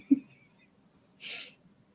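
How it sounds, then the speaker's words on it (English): A single faint, quick sneeze, with a short breathy burst close by in an otherwise quiet room and a small thump just before it. "That was for the sneeze."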